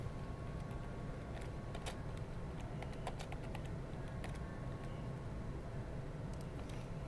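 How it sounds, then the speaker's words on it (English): A computer keyboard is typed on quickly in a broadcast weather studio, scattered faint key clicks over a steady low hum, with no talking. "I'm just typing something real quick."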